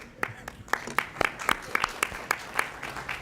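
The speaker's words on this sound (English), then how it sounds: "Golf claps, please." A county commission meeting audience gives a light, scattered round of golf claps, individual claps spaced irregularly and distinct rather than a full ovation, with voices faintly underneath.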